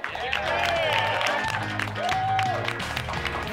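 A late-night studio audience applauds for a musical act, steady clapping and some cheering mixed with loud band music that carries a clear bass line and melody throughout.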